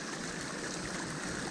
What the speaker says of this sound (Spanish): esto es muy bonito encontrarse, ¿no? Ya que es agua de vertiente que viene de la montaña.